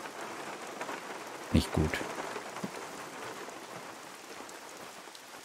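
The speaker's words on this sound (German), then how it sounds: "Es regnet." Steady rain falls in the hunting game The Hunter: Call of the Wild, a dense hiss throughout, broken by a brief louder burst and a few soft knocks, while someone speaks briefly over it.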